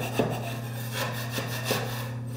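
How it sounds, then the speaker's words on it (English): A scraper drags across torn sheetrock on a ceiling in a nursery, giving a few short rasping strokes over a steady background hum, fairly quiet. "So what I like to do is I use my scraper,"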